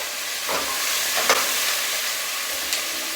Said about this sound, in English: So with this curry paste, you want to just saute it with your vegetables